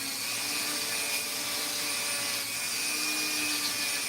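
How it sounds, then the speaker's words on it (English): A Dremel rotary tool buffs rust off metal clipper blades with a steady, high-pitched whirring grind, close and continuous with no talking. "Got a little rust in there, so I'm going to use my Dremel tool."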